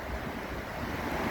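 Floodwater pours over Cohoes Falls, a steady, fairly faint roar of rushing water heard from a distance with some wind noise, no talking.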